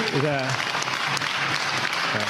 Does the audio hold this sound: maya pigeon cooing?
no